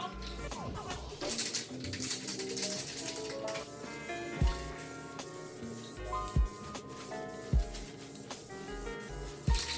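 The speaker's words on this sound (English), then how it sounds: "We're getting ready to put the primer on all the bumpers and the grill." Primer is spray-painted onto chrome car bumpers and a grille, heard as a continuous airy hiss with intermittent low thumps, while birds coo faintly in the background.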